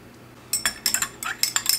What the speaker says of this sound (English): go ahead and stir it